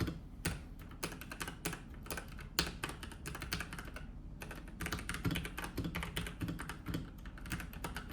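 Close, steady typing on a Corsair K65 Plus 75% mechanical keyboard, with dense clacky keystrokes in an even rhythm throughout and no voice over them.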